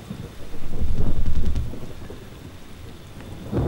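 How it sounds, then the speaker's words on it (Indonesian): A low rumble of thunder swells and fades over a steady wash of rain, with heavy drops falling close and no voices. "Dan terdengar kembali suara petir."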